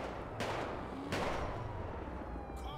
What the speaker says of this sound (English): I thought that was us getting shot at